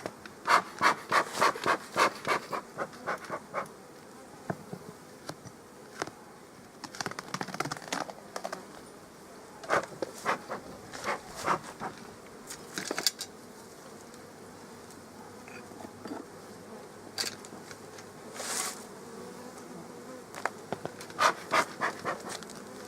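Bees around a beehive nuc during winter, a faint hum with repeated close bursts of buzzing and light tapping, some clusters denser than others.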